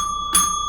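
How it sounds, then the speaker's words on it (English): A bicycle bell rings out once in a bright, sustained chime that hangs over a faint steady background, with no voices. "We've got to ring the bell"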